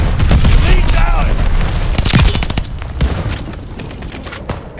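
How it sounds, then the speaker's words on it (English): A glide bomber attack in Call of Duty: Vanguard sets off a close, loud barrage of explosions and rapid gunfire, with one heavy blast standing out midway and battlefield voice callouts mixed in. "Glide bomber assist coming in."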